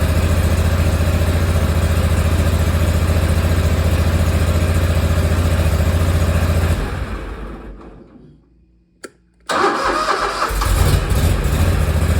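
A Ferris ISX3300 zero-turn mower engine idles loudly and steadily, cuts out into near silence, then cranks briefly and fires right back up to a strong running roar.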